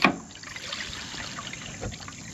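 Grey water, mostly soapy wastewater, pours and trickles from the tank of a Coachmen Beyond class B RV, a steady liquid gush running throughout at close range.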